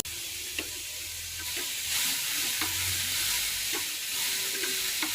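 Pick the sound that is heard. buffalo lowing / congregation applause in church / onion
onion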